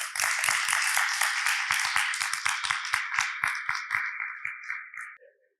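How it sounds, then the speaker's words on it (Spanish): Audience applauds a keynote speaker being introduced at an MIT-linked event in Tijuana, a dense burst of clapping that thins out and fades over about five seconds, ending in a few scattered claps. "Por favor, recibamos con un fuerte aplauso a Karina Arbizu"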